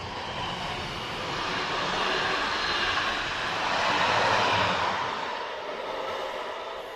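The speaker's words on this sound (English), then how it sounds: "let me wait for the train to go through" A train rushes through Bushey on the West Coast Main Line, a broad steady roar that swells and fades over several seconds, loud and close with no talk.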